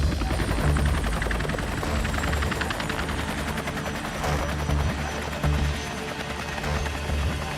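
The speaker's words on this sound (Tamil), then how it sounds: "அங்க பாருங்க ஹெலிகாப்டர்." Loud, close cartoon helicopter rotors chop in a rapid, steady rhythm over a constant engine roar that never lets up.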